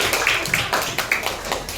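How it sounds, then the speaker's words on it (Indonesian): Classroom applause for a student group during a teaching session, a thin, scattered patter of claps from a small group, moderately close, without speech. "Tepuk tangan menuju kelompok 1"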